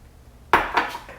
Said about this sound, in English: We're just going to dump our chickpeas into the blender here.